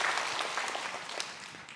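A church congregation claps during a Korean sermon at a festival service: brief, moderately faint applause from many people, even and continuous, with no voice over it.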